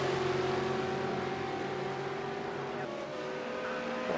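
Race car engines in Project Cars 2 during a V8 Supercar race at Ruapuna Park, a damaged car leading on the final lap, give a steady droning whine that holds level throughout, with faint background talk.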